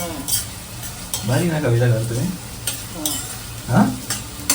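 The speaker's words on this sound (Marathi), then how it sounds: "कांदा भाजला लाल व्हायला पाहिजे त्याला" Chopped onions frying in a pan for green chicken, sizzling steadily while a spoon scrapes and stirs them in bursts, with a person talking over the cooking.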